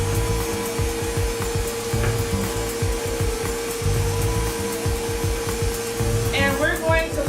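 An electric mixer whirs steadily while beating eggs into banana bread batter, a continuous motor hum with rhythmic churning and knocking from the beaters, close and loud.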